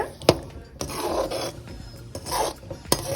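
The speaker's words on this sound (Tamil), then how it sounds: "இப்போ இந்த ஸ்டேஜில் நல்லா கிளறி விடுங்க." Thick, sweet mango pachadi with jaggery stirred in a pan, giving soft rasping scrapes in slow sweeps with a couple of sharper spoon knocks against the metal, close and fairly quiet.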